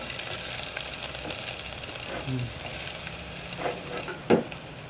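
Garlic and onion sizzle in hot oil for a Filipino eggplant omelette, a steady low frying hiss with a few soft stirring clicks and one sharper clatter near the end.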